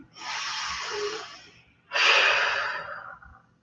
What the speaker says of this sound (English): Let's take 2 full deep breaths now